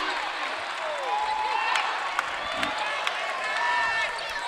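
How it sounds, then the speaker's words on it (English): Home crowd at a college men's basketball game applauds in the arena, a broad, moderate wash of clapping and crowd noise with squeaks and whistling tones mixed in, beneath ongoing activity on the court. "Big round of applause from the Pacer faithful here."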